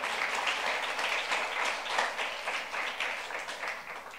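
Sustained, dense applause from a church youth congregation during a sermon, loud and steady throughout with no pauses and no talk over it.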